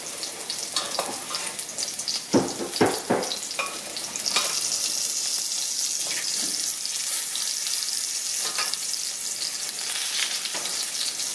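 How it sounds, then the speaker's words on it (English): Smashed baby potatoes fry in a pan, first with a few sharp spoon knocks and pops, then settling into a steady, close, moderately loud sizzle that runs on without any talking. "We're just going to fry these."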